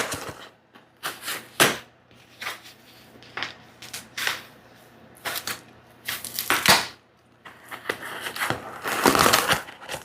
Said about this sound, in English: I'm just gonna go ahead and get some of this stuff unwrapped.